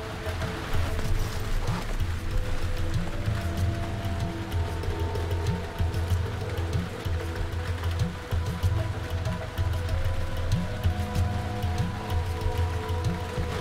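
Heavy rain drums steadily on an airliner cockpit during final approach in poor visibility, a dense continuous hiss with a low engine drone beneath, close and constant throughout.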